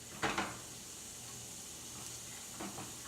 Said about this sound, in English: Starting to sizzle already.